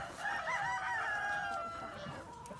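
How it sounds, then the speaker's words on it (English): Chickens wandering a winter farmyard let out a run of squeaky, wavering calls and soft clucks, fairly faint against a steady outdoor background hiss, with no talking over them. "Squeaking bird."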